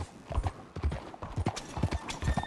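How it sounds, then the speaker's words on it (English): Horse hooves clip-clop at a steady walking pace in the video game Red Dead Redemption 2, close and rhythmic, with faint background ambience. "Fine horse you got there."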